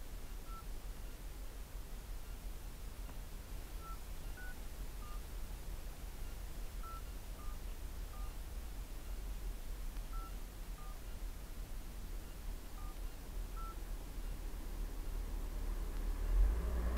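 Telephone keypad tones dial a number to call internal security, a sparse series of short, faint beeps over steady hiss and background noise, with no speech.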